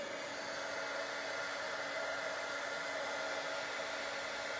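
A heat tool blows a steady, even hiss and hum close by as it melts embossing powder on a stamped Christmas card, constant throughout with no talking.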